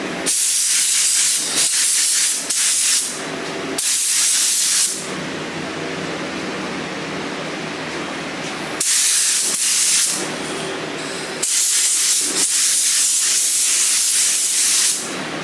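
Spray gun laying a coat of paint on a car part: loud, close hissing bursts of several seconds each, alternating with a softer background rush between passes.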